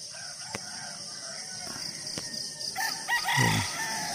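Roosters crow across a rural village in Payao, Bohol, Philippines, during a fiesta morning, several calls overlapping at middle distance with one louder, closer crow near the end over steady background ambience.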